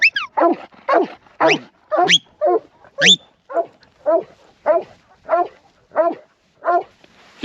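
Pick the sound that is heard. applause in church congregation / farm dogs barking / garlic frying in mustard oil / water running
farm dogs barking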